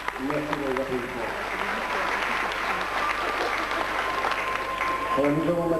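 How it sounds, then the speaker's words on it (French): Steady applause from an audience after an aikido demonstration, continuous throughout, with someone talking over it at the start and again at the end. "Merci de les applaudissements."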